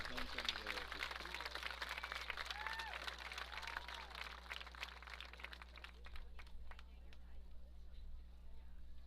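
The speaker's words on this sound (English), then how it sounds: "a round of applause for your 2022 Minco Fighting Bulldogs Junior High Homecoming Royalty" Outdoor crowd applause at a 2022 Minco Fighting Bulldogs junior high homecoming royalty presentation during a Cashion at Minco football game, a broad steady wash of clapping from distant stands with crowd murmur and a low hum underneath.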